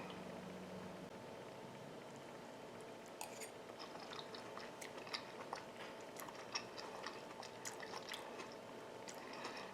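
Someone close by chews a mouthful of tender cooked kale and turnip greens dressed with olive oil. Soft, moist smacking and wet bites repeat steadily against a quiet room with no talking.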